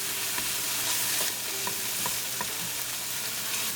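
Whole spices sizzle and fry in hot oil as a tadka for a mushroom and sweet mini pepper sabzi, with a steady close crackle broken by a few stirring scrapes and clinks of a spoon against the pan.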